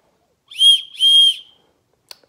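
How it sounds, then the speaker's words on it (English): Two loud, shrill blasts from a small survival whistle built into the handle of a multi-tool axe, each about half a second long, followed by a faint click. "a whistle."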